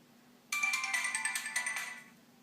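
Start-up melody of a 2007 Sony Ericsson Z750i phone plays alone for about one and a half seconds as a bright chiming tone sequence, then fades out.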